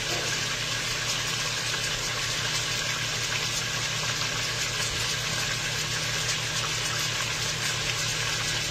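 Water runs from a kitchen tap in a steady, continuous rush for making gravy, heard close and fairly quiet, without any talking.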